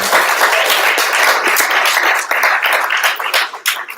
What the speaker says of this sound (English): you deserve a round of applause for everything that